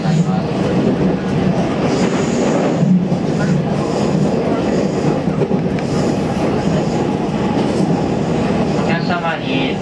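A JR Central four-car local train bound for Ogaki rolls along with a steady loud rumble and clatter of wheels, faint squeals near the end, and an onboard announcement voice running over the noise.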